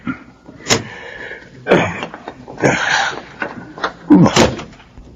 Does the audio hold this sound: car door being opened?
yes